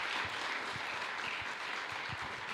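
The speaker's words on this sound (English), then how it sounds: "So, huge round of applause to them." Dense, steady applause from a conference audience at a business meeting, a continuous wash of many hands clapping close and loud with no voices over it.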